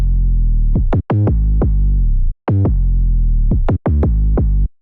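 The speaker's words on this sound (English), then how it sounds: "I do have this very short 808 loop I just put in MIDI here. It sounds like this." A short programmed 808 bass loop, deep booming notes with sharp attacks and pitch glides, loud and close in a repeating pattern broken by brief gaps, with no other sounds.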